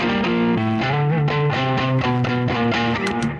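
An electric guitar played through a Rangemaster pedal without a transformer into a V40 amplifier plays a quick, bright riff of single notes with a slightly gritty, boosted edge, loud and close with no voices.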